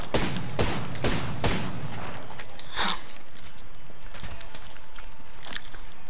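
Gunfire in the Apex Legends battle royale game, several sharp loud bursts in quick succession during the first two seconds, then scattered fainter shots and game ambience.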